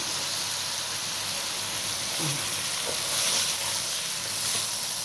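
Rice for Egyptian koshari stirred hard in a hot pot, a continuous close sizzle and hiss with faint scraping of the spoon, no talking.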